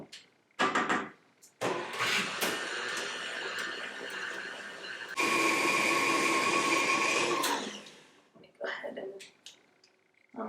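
An electric mixer blends molasses crinkle cookie dough in a home kitchen, running in two loud sustained bursts with a short pause between them, then stopping for scraping and handling noises.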